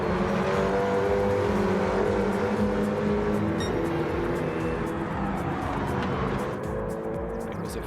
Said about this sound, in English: Let's see what these guys can set in terms of lap times with the KTM.